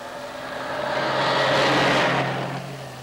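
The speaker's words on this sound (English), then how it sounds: "I'm going to stop every car that passes." A car from around 1939 passes along a road, its engine noise swelling to a broad peak past the midpoint and then fading, heard alone without voices.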